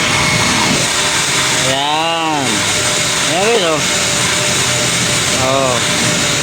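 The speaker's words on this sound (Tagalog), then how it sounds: "binabacuum na yung sasakyan natin" At a car wash, a vacuum cleaner hums steadily and loudly while someone vacuums a car. The suction pitch sweeps up and down several times as the nozzle moves, and voices speak briefly.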